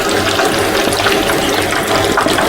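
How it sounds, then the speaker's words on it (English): Squid pieces coated in rice flour bubble and sizzle in hot oil as they fry for salt and pepper squid, a steady, loud, dense hiss with a low rumble underneath and no voice. "So we have them in, we have them bubbling."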